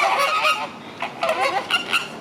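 Geese honk loudly and harshly in an agitated fight with wings out, a rapid series of close, nasal calls coming in bursts with no talking over them.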